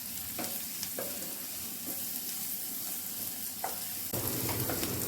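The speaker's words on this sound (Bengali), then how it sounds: "পেঁয়াজটা কম আছে বেশ ভালো করে লাল লাল করে ভেজে নিচ্ছি" Onions fry over a low gas flame in a pan for a Bengali potol dish, giving a steady soft sizzle with a few stirring clicks, then a louder burst of sizzling near the end, no voices.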